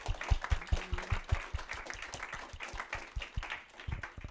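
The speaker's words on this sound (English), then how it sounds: "Round of applause, everyone." Audience applause at a November 2024 DEVxSD developer meetup talk: steady, dense clapping from a room of listeners, moderately close, sustained throughout without pause and with a few louder individual claps standing out.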